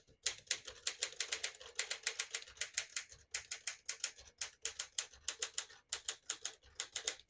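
Rapid keystrokes on a 1960 Smith-Corona Silent-Super portable typewriter clatter in quick bursts with brief pauses between runs, close and crisp, no voices.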